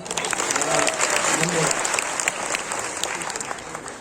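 An audience claps loudly and steadily at a devotional Gita Jayanti festival gathering in Mayapur, a dense, sustained wash of applause that fills the whole stretch with a slight crowd murmur beneath.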